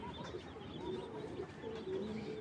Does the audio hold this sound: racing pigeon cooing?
yes